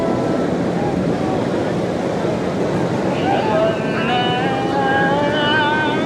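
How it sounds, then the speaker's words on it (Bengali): Rough sea surf and strong wind on Cox's Bazar beach, a loud, steady broadband roar with wind buffeting the microphone throughout and faint tonal whistles drifting in over the later seconds. "তো সমুদ্র কিন্তু বেশ খানিকটা উত্তাল।"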